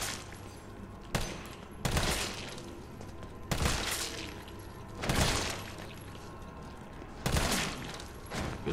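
Gunfire from Resident Evil 3 as zombies are shot, with sharp bursts landing about every second or two over a low, steady game ambience.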